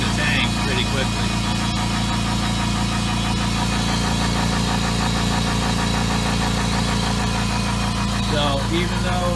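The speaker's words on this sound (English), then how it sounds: "So you can see it's building up the pressure of the tank pretty quickly." A Husky Silent Flow 4.6 gallon air compressor runs steadily as it fills its tank, giving a continuous, even motor drone with a low hum and rattling vibration that holds at one level from start to finish.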